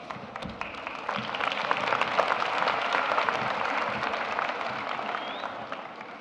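A commencement audience at Becker College claps for the class of 2013, a dense steady applause of many hands that swells within the first seconds and holds, filling the hall without speech.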